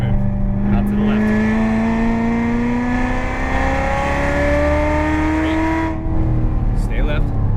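A Corvette Z06 engine accelerates on the Las Vegas Motor Speedway track, a loud, steady rising roar that climbs in pitch through the gears for several seconds, with a voice talking over it.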